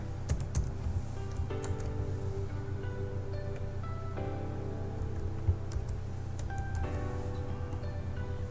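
Steady typing on a computer keyboard while a password is entered, a run of close, light clicking keystrokes over a low hum, with no one talking.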